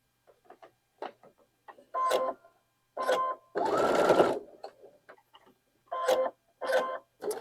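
A sewing machine chain pieces quilt fabric for a Bear's Paw block at a quarter-inch seam. It runs in short, close bursts of rapid stitching with quiet gaps between them, including one longer steady run.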